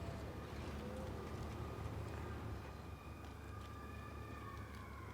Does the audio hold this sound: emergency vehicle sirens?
yes